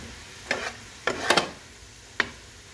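A utensil scraping and tapping through kimchi fried rice with spinach in a pan, a few separate clicks and scrapes with soft sizzling beneath, no talk.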